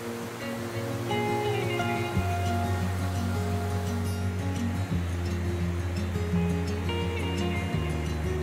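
Waterfall flowing into Sweet Creek, Oregon, where Elk Wallow Creek joins, a continuous broadband rush of falling water heard from across the creek, steady and moderately loud, mixed with a tonal engine-like drone.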